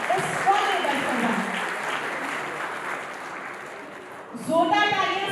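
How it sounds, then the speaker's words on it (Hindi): Scattered audience clapping fills a hall during a Porwal community swearing-in ceremony, moderate and fairly even, fading slightly before a voice starts speaking near the end. "जोरदार तालियां सिर्फ उनसे बजी हैं जो आज शायद शपथ ग्रहण करने वाले हैं"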